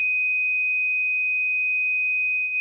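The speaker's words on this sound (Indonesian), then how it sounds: "Oke, untuk alarm bahaya. Terus ini coba kita silent untuk menghentikan buzzernya." An Arduino buzzer sounds a danger alarm in a laboratory monitoring setup, a single steady, piercing electronic tone held continuously and loud, with no voices.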